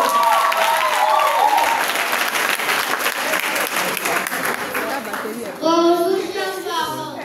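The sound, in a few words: audience applause at children's church event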